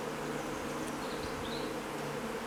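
Honeybees drone around an opened urban backyard hive during a split, a steady, dense buzz close by with individual bees whining past.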